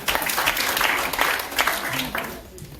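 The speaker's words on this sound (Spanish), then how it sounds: "Denle un aplauso al Señor" Church congregation applauding during a sermon, a short burst of clapping that fades out toward the end, with a voice heard faintly under it.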